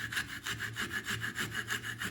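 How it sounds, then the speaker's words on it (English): Coping saw with a thin blade cutting through wood while carving a drake pintail duck decoy, a close, steady rasping stroke repeating about every 0.15 seconds, alone without talk. "I use a coping saw,"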